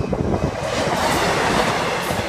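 A train on the Newark Northgate to Peterborough service via Lincoln Central and Sleaford passes at Thorpe-on-the-Hill, a loud, close, continuous rumble with wheel clatter and no voices.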